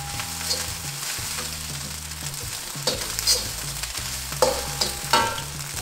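Rice frying in a pan for salted egg fried rice, a continuous hiss of sizzling broken up by a few scraping, clattering stirs of the spatula, close and with no voices.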